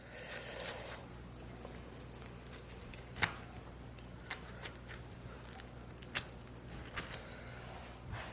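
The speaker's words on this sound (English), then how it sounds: "all you do is you just cut straight down that ear cartilage" A knife slices through deer ear cartilage with faint scraping and crisp little cuts and snaps, scattered clicks over a quiet background.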